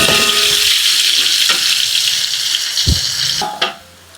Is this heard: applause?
no